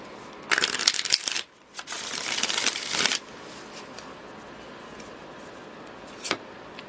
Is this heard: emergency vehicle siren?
no